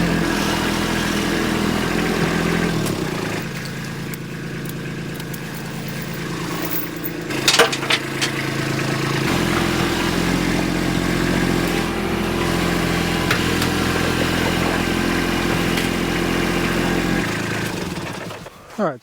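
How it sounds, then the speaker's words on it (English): A tractor engine runs loudly and steadily at close range while pulling flood debris clear, with a brief clank partway through and the engine easing off at the end. "Let's just hook onto that real quick with the tractor and yank it out of here and be done with it"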